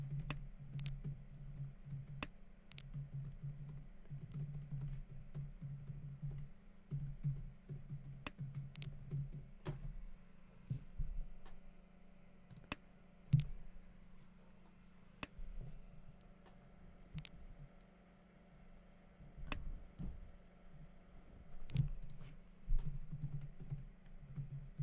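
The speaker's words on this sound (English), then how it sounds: "I'm just furiously typing to Kyril here." Rapid, furious keystrokes on a computer keyboard with sharp clicks in uneven bursts, close and fairly quiet over a low steady hum, with no talking.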